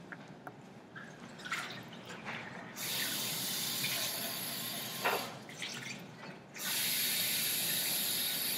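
A water tap turns on and runs in a steady hiss, stopping briefly then resuming, after some quiet clinks and drips in an indoor space.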